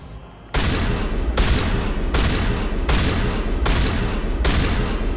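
A rail-extended weapon fires in Mass Effect: six loud, evenly spaced heavy blasts follow a brief quiet opening, each shot a long booming crack.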